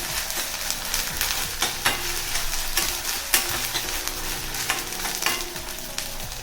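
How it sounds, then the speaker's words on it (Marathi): Onion sizzles in a pan with ginger-garlic paste while a spoon stirs it with steady scraping clicks, a continuous close fry with no talking, cooked for a spicy brinjal bharit. "त्याच्यामध्ये अर्धा चमचा एवढी आलं लसणीची पेस्ट टाकून घ्यायची आणि पेस्ट सुद्धा या कांद्यासोबत आपल्याला फ्राय करायची आहे."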